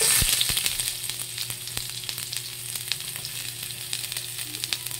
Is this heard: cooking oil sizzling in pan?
yes